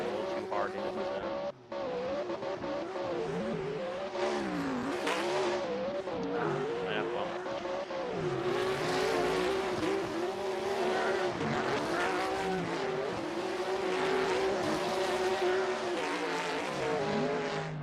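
Cars drifting in a sim racing game, including an A90 Supra in a tandem competition, with engines revving and wavering up and down continuously alongside squealing tires, under steady commentary talk.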